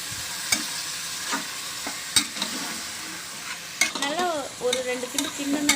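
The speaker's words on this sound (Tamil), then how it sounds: "சிக்கனையும் போட்டு நல்லா வணக்கி விடுங்க" Chicken being stirred and sautéed in a pan for pepper chicken biryani with seeraga samba rice, with crackling sizzle and repeated scraping stir strokes, close and clear, without talking.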